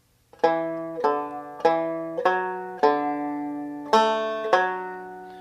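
A banjo picks a short melody from Whisky Before Breakfast, seven bright plucked notes ringing out one after another at a steady, unhurried pace, clear and close with nothing else playing.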